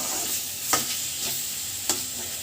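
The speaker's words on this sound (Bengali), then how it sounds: "দিয়ে মশলাগুলোকে ভালো করে কষাতে হবে।" Spices stir-frying in mustard oil over low-medium flame for mutton keema ghugni, a continuous close sizzle with a couple of distinct spatula scrapes against the pan.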